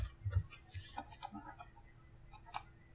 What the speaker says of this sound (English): I'll type something into box 19 reserved